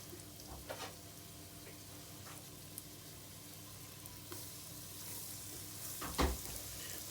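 Flour-dusted beef chunks fry in hot oil in a stew pan, giving a quiet, steady sizzle with a few soft clinks and a brief louder clatter near the end.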